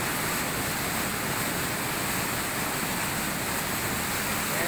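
Milky white water pours out of a mountain spring in the jungle. It makes a steady, unbroken rushing hiss, like a small waterfall, loud and close with no other sounds.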